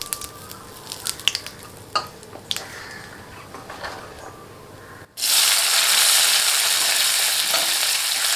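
A kitchen mixer grinder grinding raw rice: a few light clicks and taps, then the motor suddenly kicks in with a loud, steady, high whirring roar that continues unbroken.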